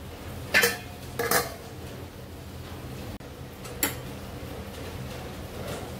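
A metal lid is set onto a pot of green moong dal masala khichdi, giving two quick clinks close by and a lighter clatter a moment later, with a faint kitchen hum underneath.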